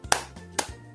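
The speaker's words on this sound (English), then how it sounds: "let's give ourselves a love clap" Children give themselves a quick love clap at a kids' Sunday service, two sharp, separate claps about half a second apart against a quiet room, with no talking.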